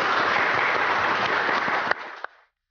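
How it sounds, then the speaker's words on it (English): Audience applause closing a Murfreesboro City School Board candidate forum, a steady dense wash of clapping from a crowd that stays full for about two seconds, then thins into a few last claps and stops. "May we close with a round of applause for the candidates."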